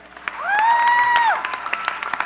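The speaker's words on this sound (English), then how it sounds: "Give yourselves a round of applause for being here." Brief crowd applause at a Martin Luther King Jr. vigil, with scattered claps and a rising, held whistle over the clapping before it thins out to a few individual claps.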